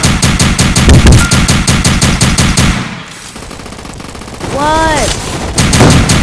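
Video game gunfire rattles in rapid automatic bursts, loud and close, pauses briefly, then resumes; a rising electronic tone sounds in the gap and a voice speaks briefly.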